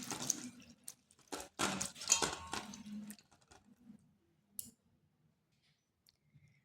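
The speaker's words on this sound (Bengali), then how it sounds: "3 থেকে 4 বার এইভাবে জল দিয়ে দিয়ে একটু চটকে চটকে ধুয়ে নেব।" Flattened rice (chira) is washed and squeezed by hand in water, giving close splashes, sloshing and clicking knocks against a bowl for a few seconds before it falls mostly quiet.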